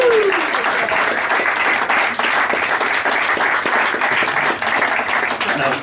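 Loud, close audience applause after a comic poem in iambic pentameter at a live spoken-word performance, thick rapid clapping sustained for several seconds with some crowd noise mixed in.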